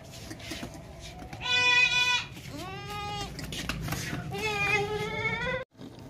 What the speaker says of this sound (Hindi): ये बकरा चेक करें माशाल्लाह